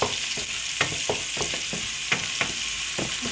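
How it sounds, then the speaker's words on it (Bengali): Chicken sizzles steadily in hot oil, a dense continuous frying hiss broken by scattered clinks and stirring scrapes from a utensil, close and fairly loud, with no talking. "লাল লাল হলে এখন দিয়ে দেবো মুরগিটা।"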